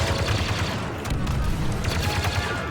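Blaster fire in the Star Wars Battlefront II video game, a dense, continuous barrage of rapid shots and impacts throughout, loud and busy over battle ambience.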